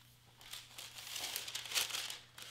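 A protective sheet for a heat press is pulled out, giving a short, close crinkling and rustling of thin plastic-like sheeting that lasts about two seconds over a low hum.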